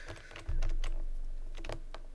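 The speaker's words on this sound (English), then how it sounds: "I hear my keyboard" Rapid, uneven clicks of a computer keyboard being typed on while playing Chip's Challenge, close and fairly clear over a low background hum, with no voices.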